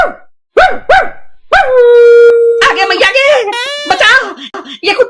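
A dog barks twice sharply, then howls in a long, loud, wavering wail that breaks into more yelping howls, close and prominent.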